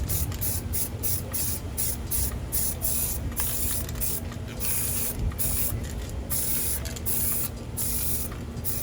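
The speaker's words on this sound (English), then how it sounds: "Once again, spray it there." Continuous hiss of a spray paint can spraying onto a mirror in short, repeated bursts, close and steady with brief pauses between pulses.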